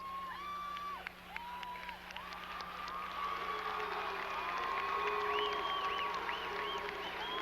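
Crowd at a 1987 Jefferson versus Rosemount boys high school basketball game reacting to a charging foul, a swelling wave of cheers, whoops and shouts over squeaky sneaker chirps in a gym, growing louder toward the end.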